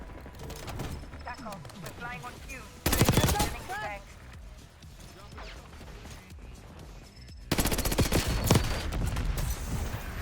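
Full-auto AEK 972 rifle fire in Call of Duty Black Ops 6, with two long, loud sustained bursts of rapid shots amid chaotic multiplayer combat noise and faint game chatter.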